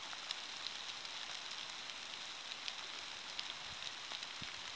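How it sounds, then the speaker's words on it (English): Steady, faint patter of rain falling on surfaces, a constant soft hiss with occasional distinct drops and no talking. "Raining."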